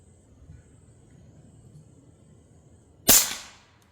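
A single sharp crack from a high-powered PCP air gun fires close by after a few seconds of quiet background hum, its report decaying quickly.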